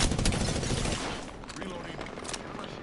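Dense, loud gunfire from a firefight in Apex Legends, a continuous roar of shots heaviest at the start and easing into scattered cracks, with talk faintly mixed in.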